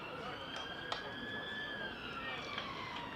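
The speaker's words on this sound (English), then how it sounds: "Some sirens making their way across the centre" Emergency vehicle sirens passing through a city centre, a faint, distant wailing tone drifting slowly in pitch over a low hum of traffic and crowd.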